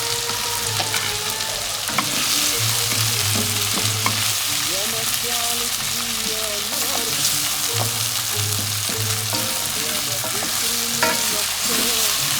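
Octopus in cumin sauce sizzles and fries in a pan while a wooden spoon stirs it, giving a continuous close crackle with occasional scraping strokes and a faint hum underneath.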